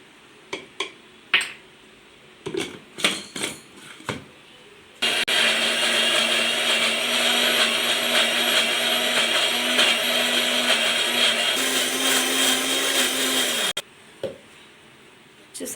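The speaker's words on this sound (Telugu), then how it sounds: "ఎండుమిర్చి ఉల్లిపాయ రెండు కూడా మనం మిక్సీ పట్టేసుకుంటాం." A mixer grinder whirs loudly for about nine seconds, grinding dried red chillies and onions, with its motor pitch shifting partway through. Before it starts and after it stops come sharp clicks and knocks of handling the jar.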